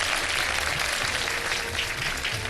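Studio audience applause on a Pakistani Ramadan iftar TV show, a steady dense wash of clapping that fills the whole stretch at even loudness with no voices standing out.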